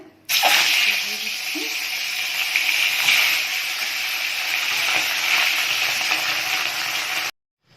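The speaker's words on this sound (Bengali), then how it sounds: "কড়াইতে তেল গরম হয়ে গেছে," Hot oil in a kadai, with tilapia being fried, gives a loud, close, continuous hissing sizzle that starts abruptly, holds steady for several seconds with faint stirring, then cuts off.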